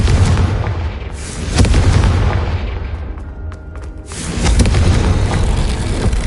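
A loud booming fire-spell explosion cast in the game Hogwarts Legacy, a heavy rumbling blast that swells and fades over a few seconds, then a second roaring burst follows after a brief lull.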